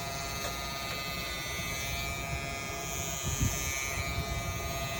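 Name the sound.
electric hair clipper cutting hair close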